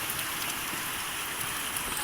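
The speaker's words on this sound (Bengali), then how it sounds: "দেখুন বৃষ্টির অবস্থা কত সুন্দর, সব কিছু ভিজতেছে।" Heavy monsoon rain with strong wind drenching a fishing trawler in the Sundarbans, a steady dense patter on surfaces that holds unbroken throughout.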